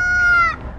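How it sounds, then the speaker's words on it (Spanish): A rooster crows once, short and bright with a rising strained pitch, close and loud over faint background noise. "¡Un gallo!"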